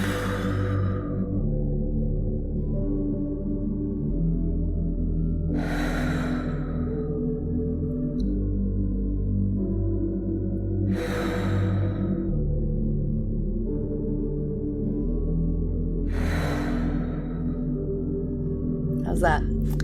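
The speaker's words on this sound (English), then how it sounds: "what you're going to do is exhale forcefully" Four forceful, breathy exhales from a breath-of-fire breathing exercise, spaced roughly five seconds apart, each a sharp hissing burst over a steady low hum.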